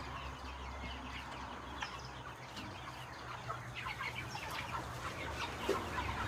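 Chickens cluck and stir close by over steady background noise, with scattered calls and a brief flutter of wings near the end.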